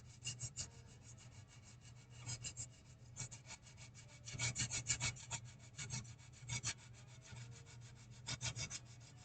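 Seams on an Aurora B-26 Marauder model kit are sanded by hand, quick rhythmic rasping strokes in short bursts, close and fairly quiet, with no one talking.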